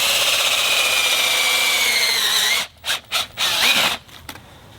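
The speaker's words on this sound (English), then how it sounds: "It's a cordless drill with an auger." A cordless drill spinning an auger bores a bait hole in dirt, whirring loudly and steadily for a few seconds, then cutting off into three short bursts and a final longer run.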